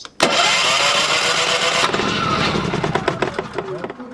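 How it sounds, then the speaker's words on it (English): A Champion 3400-watt dual fuel generator is cranked with its electric starter, a brief whirring churn of the starter motor that sputters without catching, followed by a few uneven clicks and knocks. "push and hold the electric start button until the generator starts"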